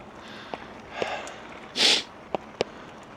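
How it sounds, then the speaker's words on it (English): A person sniffles a few times on a prairie loop trail: short nasal sniffs, then one longer, louder snorting inhale, and two more quick sniffs, close up. "Can't stop sniffling."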